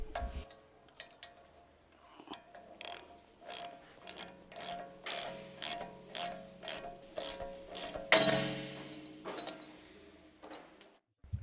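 A large ratchet turning a 22mm socket on a ball joint separator to free the steering rack ball joint on a 2013 Jeep Wrangler JK, clicking in a steady run of about a dozen close, crisp ratcheting bursts, with a sharper clank near the end.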